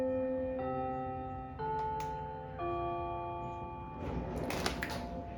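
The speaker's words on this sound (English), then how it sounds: "Okay, so now that the bell is finished, I will continue." A school bell rings as a series of sustained chime tones stepping through several pitches, fairly loud and resonant, with a clattering noise near the end.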